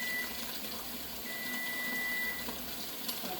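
Cooked broccoli goes into a bowl of cold water in a home kitchen, giving a soft, steady wash of running or splashing water at low volume, with a faint tonal hum underneath and no talking.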